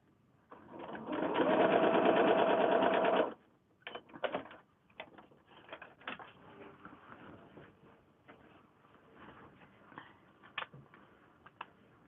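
A sewing machine stitches quilt block pieces for a Japanese lotus flower quilt, running in one steady whirring burst for about two seconds, then stopping; light clicks and handling noises follow at a close, quiet level.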